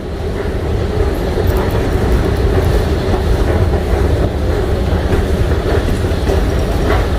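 An underground metro train in Iran rumbles loudly and steadily on its rails deep below ground, a continuous low roar with faint clattering over the whole stretch.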